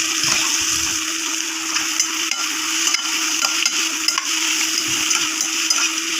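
Shrimp frying in garlic butter, stirred in a pan: a steady, broad hiss of sizzling with intermittent scraping and stirring clicks, fairly close and continuous, no talking.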